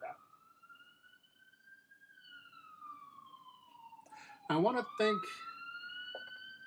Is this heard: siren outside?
yes